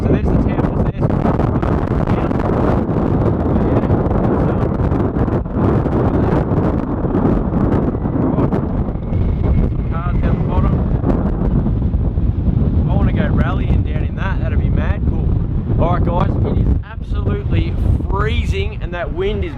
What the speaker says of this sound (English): And that wind is blowing, so we are out of here.